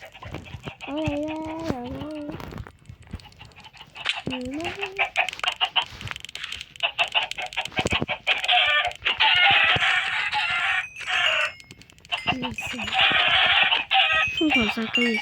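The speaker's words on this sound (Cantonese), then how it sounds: "瘋狂殺雞嘅聲" Chickens in the Minecraft video game cluck and squawk in rapid bursts while being killed, loud chaotic game effects with a person talking excitedly over parts of it.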